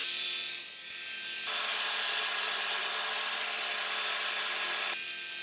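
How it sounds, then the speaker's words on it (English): A Sainsmart disc and belt sander runs at about 2600 RPM, sanding the end of a wooden piece while a shop vacuum pulls away the dust. Steady, loud whirring with a gritty rub lasts about three and a half seconds, with a quieter motor hum before and after. "I'll use the dust collection in the shop vacuum as well."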